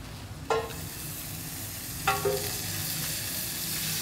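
A small knob of butter hits a hot pan for lentil-stuffed chicken breasts, giving two short hissing sizzles a couple of seconds apart over a steady low kitchen hum.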